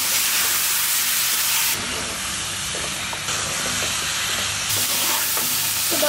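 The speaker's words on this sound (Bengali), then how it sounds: "এই জন্য চিংড়ি আর মিষ্টি কুমড়া একসাথে দিয়েই কষাতে থাকি।" Shrimp and sweet pumpkin stir-fried with spices in a hot pan, giving a loud, steady sizzle and hiss with occasional scraping stirs, close and continuous.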